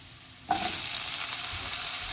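Potatoes drop into hot oil in a pan, and a loud, steady frying sizzle bursts up and holds close and continuous.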